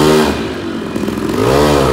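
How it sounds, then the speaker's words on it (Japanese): A Honda Motocompo scooter running on lawnmower gasoline revs close by, its small two-stroke engine droning with rising and falling pitch as it rides toward a gas station. "近くのガソリンスタンドまで走行テストです。"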